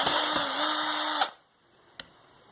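A power drill whirs steadily for just over a second while backing screws out of a Nilfisk vacuum motor, then cuts off, leaving near-silence broken by one small click.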